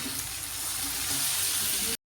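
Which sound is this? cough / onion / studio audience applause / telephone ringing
onion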